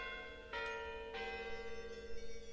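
A bell in the Risk of Rain video game strikes twice in close succession, each ring swelling into a long, sustained metallic tone over a faint background hum.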